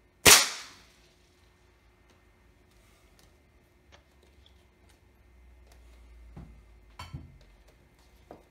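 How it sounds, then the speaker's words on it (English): A single sharp air rifle shot cracks loud and close at the start in a makeshift indoor range, fired at a computer, then a long quiet stretch broken by faint ticks, low rumbling handling noise and a couple of small knocks near the end. "I'm gonna try one more shot. Maybe it kills it."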